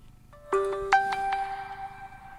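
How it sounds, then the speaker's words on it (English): A OnePlus 15R phone plays its first ringtone through dual speakers: a loud, bright sequence of ringing tonal notes with sustained overtones, heard alone. "Let's do ringtone one."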